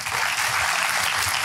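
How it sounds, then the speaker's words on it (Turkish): Brief burst of audience applause at a short film competition award night in Sultanbeyli, steady dense clapping from a crowd lasting a second and a half. "Alkışlarla uğurluyoruz efendim."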